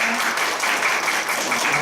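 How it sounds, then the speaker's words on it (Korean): Lecture audience at a pediatric ultrasound course gives sustained, even applause, a dense wash of many hands clapping at steady loudness for the whole span. "박수 부탁드려요."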